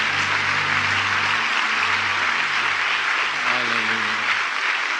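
Sustained loud applause from a church congregation giving praise to the Lord, thick steady clapping throughout, with a low sustained musical drone and faint voices mixed beneath.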